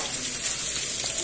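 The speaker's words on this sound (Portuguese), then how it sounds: "Pô, ela chegou aqui agora, a chuva." Heavy rain arrives on a late afternoon in Jabitacá, Pernambuco, a dense, steady hiss of falling water filling the short moment, close and fairly loud.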